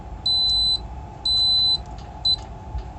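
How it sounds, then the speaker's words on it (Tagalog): A LAE AT2-5 chiller and freezer controller sounds its alarm in three sharp electronic beeps, two longer and one short, over a low steady hum. "nag-alarm siya kasi wala siya natitrace na lamig"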